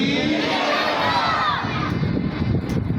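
A mosque congregation shouts religious slogans together in a loud, dense crowd roar, voices massed and continuous throughout.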